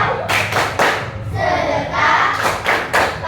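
Fifth-grade children in a classroom clap in a quick patterned rhythm, bursts of sharp claps separated by short pauses, with a brief vocal chant in the middle.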